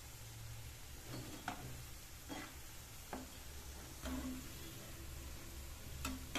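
Cabbage fritters frying in hot oil give a soft, continuous sizzle, with a few light taps and clicks from a utensil over the bubbling.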